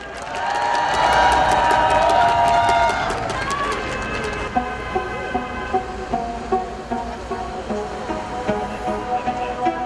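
At an outdoor citizens' rally, a crowd cheers and claps loudly for the first few seconds, then the noise drops to a lower wash with rhythmic thumps as music begins, voices mixed in.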